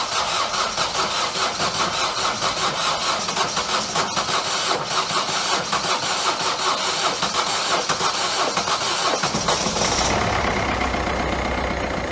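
A Ford Fiesta diesel engine cranks and fires for the first time after a turbo install, then settles into a steady, clattering idle, close and loud throughout.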